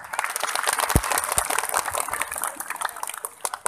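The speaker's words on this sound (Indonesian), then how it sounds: "Tepuk tangan." An audience at an Indonesian Nahdlatul Ulama manaqib religious gathering claps, a dense crackling patter of many hands heard close and continuous, with a few louder thumps.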